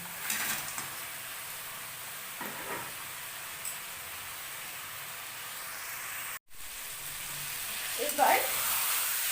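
Fried fish pieces sizzling in hot oil as they go into the pan for chilli fish, a steady close hiss with a few tossing and scraping bursts, one brief cut, and a louder sizzling surge near the end.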